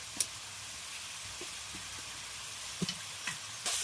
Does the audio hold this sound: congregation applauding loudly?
no